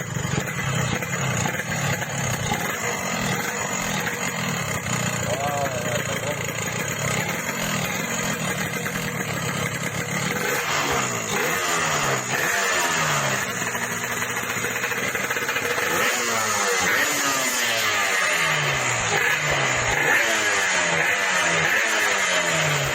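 Yamaha RX King two-stroke motorcycle engine started up and revved, a steady buzzing idle rising into repeated rev sweeps in the second half, close and loud with no talking.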